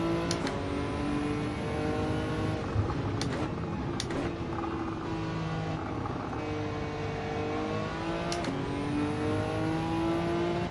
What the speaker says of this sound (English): I do love the sound of this car.